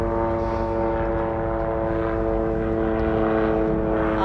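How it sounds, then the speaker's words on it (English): A helicopter drones loudly and steadily overhead in Southeast Alaska, its engine and rotor hum continuous and unbroken throughout. "Oh no, helicopter."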